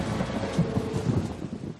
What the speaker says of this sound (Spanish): que con el agua de la lluvia provocan lluvias de ácido sulfúrico.